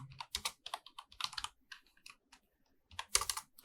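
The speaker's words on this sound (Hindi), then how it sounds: "यहाँ पे हम लिखते हैं हातिम टेकरी" Someone types on a computer keyboard in short bursts of crisp, close key clicks, with brief pauses between the bursts and a final quick flurry; no one speaks.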